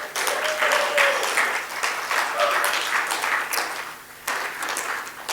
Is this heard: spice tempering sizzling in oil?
no